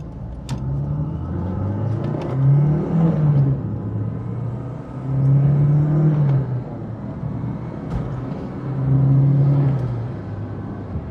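A 1980s turbocharged hot hatch car on a drive, its engine rumbling steadily from inside the cabin and swelling in three distinct rising acceleration surges, loud and continuous with no talking.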